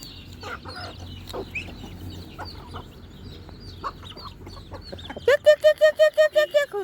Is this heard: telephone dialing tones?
no